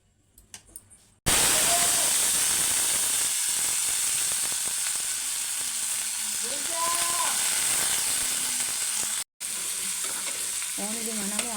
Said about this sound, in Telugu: ఉల్లిగడ్డలు వేయించుకుందాం.